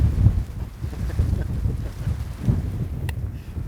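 Strong wind buffeting the microphone outdoors in Nevada hunting country during an archery mule deer hunt, a loud, steady low roar with gusting surges and no speech.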